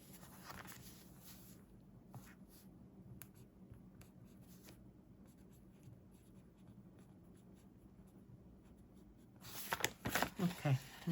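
A pen writes on the paper of an A5 Hobonichi Cousin planner in a quiet room, a steady soft scratching of strokes with a few light taps, and some rustling and handling noise near the end.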